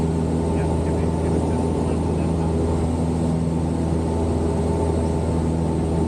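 A skydiving jump plane flying overhead sends down a continuous engine and propeller drone that stays loud and even, with some faint wind noise underneath.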